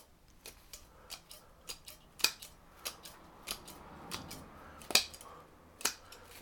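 Scissors snipping new growth on a Chinese elm bonsai during winter pruning, a series of crisp, close clicks at an irregular pace, roughly a dozen cuts.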